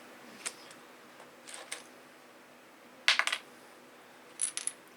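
Gold coin tokens from a board game clink as they are handled, a few small separate bursts of metallic clicks, close and quiet, with a brief louder jingle near the middle.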